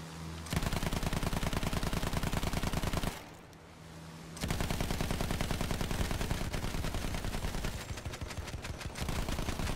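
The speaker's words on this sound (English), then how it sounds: "Keep shooting him, boy!" Rapid machine-gun fire in a plane-and-gun video game rattles in long continuous bursts, dense and steady, broken by one short pause before firing resumes.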